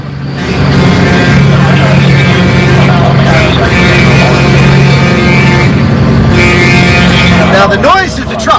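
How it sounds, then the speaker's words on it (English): Convoy trucks drone loudly along a road with steady engine rumble and tonal whine, rising and falling as they pass, while a voice talks over the noise. "Now, the noise is the trucks."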